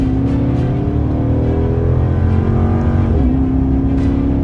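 2013 Dodge Charger R/T Max AWD engine roars loudly and steadily from close by, a continuous strained drone under load with a brief pitch shift like a gear change partway through.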